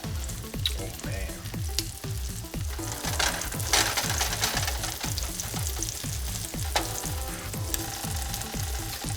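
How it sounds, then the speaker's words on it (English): Crab cakes frying in butter in a pan sizzle and crackle loudly and continuously up close, with rapid popping bursts throughout and no talking. "Once they're in the butter, we are going to fry these for about 5 to 6 minutes on either side"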